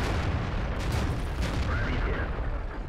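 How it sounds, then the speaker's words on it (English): A deep, booming tank cannon report in World of Tanks, with dense low rumble and battlefield noise filling the short moment, a heavy blast heard fairly close. "Taking a shot in the rear from an ally there."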